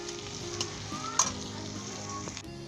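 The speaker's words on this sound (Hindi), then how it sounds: "हम अब इस प्याज को ब्राउन करेंगे।" Onions browning in vegetable oil in a kadai for a shahi paneer kofta korma, giving a steady, close, crackling sizzle with occasional sharper pops and stirring scrapes. No voices.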